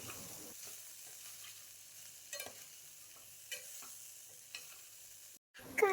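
Spiny gourd curry stirred and frying in a pan, a faint, steady sizzle broken by a few spoon scrapes, a brief drop to silence near the end, then a louder clatter, no voices.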